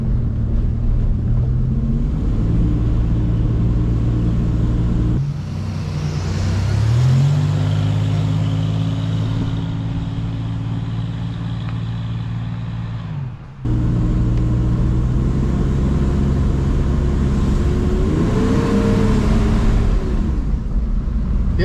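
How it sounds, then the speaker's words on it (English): An old Toyota 4Runner with a freshly repaired engine drives along, its steady engine drone rising and dropping as the transmission shifts, loud and continuous from inside the vehicle. "Yeah, the transmission's shifting good. All right, so it does drive."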